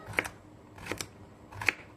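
A kitchen knife dices zucchini, carrot, onion and potato into cubes, making three quiet, separate chopping strikes roughly half a second to a second apart.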